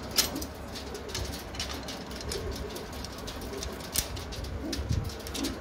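Pigeons cooing in a loft holding red Chinese and red Sara pigeons, soft low coos repeating against a steady noisy background, with a few brief sharper sounds and no talk.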